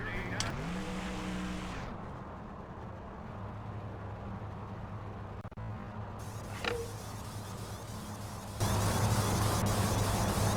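A race car in NASCAR Thunder 2004 rolls down pit road, its engine a steady low drone with a faint squeal partway through, then swelling louder near the end.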